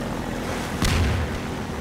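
A thrown bomb bursts once in Half-Life 2, a single muffled boom near the middle that rises briefly over a steady background rumble of game noise.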